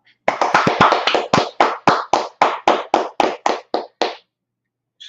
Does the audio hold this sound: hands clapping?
yes